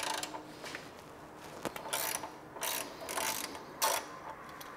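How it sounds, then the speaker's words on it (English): A ratchet with a 9/16 inch socket works on the oil drain plug of an OBS Chevy truck, giving several short bursts of clicking pawl strokes with a sharp metallic snap early on, close and otherwise quiet. "All we need is a 9/16 inch socket, and we'll go ahead and break this loose."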